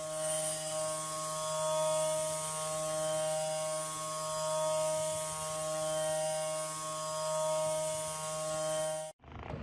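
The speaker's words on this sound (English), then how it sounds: "And here it is, the presence of a 5-axis milling machine on a completely different level." A 5-axis milling machine running, a steady whirring mechanical drone with strong tonal hum and a faint ratcheting texture, continuous and even at close range before stopping abruptly near the end.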